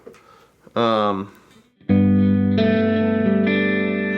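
A lap steel guitar played with a Beard tone bar: a sustained note, then a bright slide chord that rings out and steps up to new pitches, each chord held with long, shimmering sustain.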